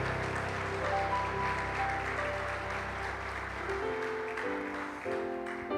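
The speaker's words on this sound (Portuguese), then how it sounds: "Você pode aplaudir essa palavra?" A church congregation applauds during a sermon, steady massed clapping from a crowd, with held keyboard or organ tones playing beneath and shifting chords near the end.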